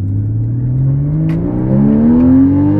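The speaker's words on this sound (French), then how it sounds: "On n'est pas là pour vous faire écouter le caïman avec les valves fermées." A Porsche Cayman GTS engine revs with its exhaust valves open, a loud, close, rising growl that climbs steadily in pitch over a few seconds, with a brief click partway through.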